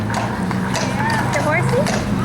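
Horse hooves clip-clop along a city street in Asheville, a steady rhythmic clatter close by under continuous chatter from passersby.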